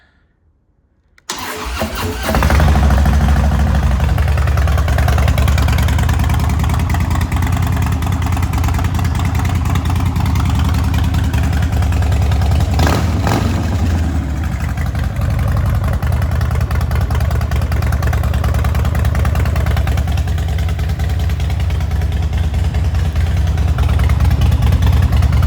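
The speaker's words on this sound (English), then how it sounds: "Do a cold start for you here." A 2017 Harley-Davidson Dyna Low Rider cold-starts after a second of quiet, catching abruptly and settling into a loud, close, steady low rumbling idle with its characteristic uneven pulse.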